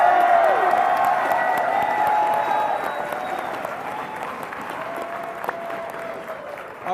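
A big arena crowd at a League of Legends grand final cheers and applauds loudly, with whoops and voices over a wash of clapping that slowly eases.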